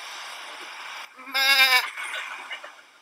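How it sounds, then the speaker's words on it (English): A single loud bleat rings out in the middle over a steady background hum, from a sheep close by inside a lorry full of sheep. "Is it a lorry full of sheep?"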